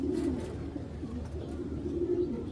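Racer pigeons at a farm cooing, low soft throaty coos repeating close by against a steady background hum of the loft.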